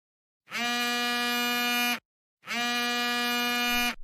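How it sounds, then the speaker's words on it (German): Two long, steady electronic rings with a buzzy tone, each lasting about a second and a half, separated by a short silence. "Dein Telefon klingelt."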